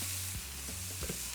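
Smashed beef burger patties with onions pressed into the meat frying on a hot griddle, a steady quiet sizzle with a low hum and a couple of soft scraping touches.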